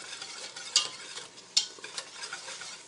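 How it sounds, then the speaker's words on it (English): Flour paste for a Greek-style béchamel sauce being whisked in a pan, a soft continuous scraping and stirring with two sharper clinks of the whisk against the metal, fairly quiet and close, with no talking. "So I'm just whisking this in slowly."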